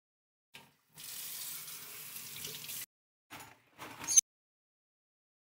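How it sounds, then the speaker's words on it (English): A tap runs for a couple of seconds while a water bottle is washed, then shuts off, followed by a few short splashes and bursts of water. "There is no way I'm going to fill this up with water without washing it first."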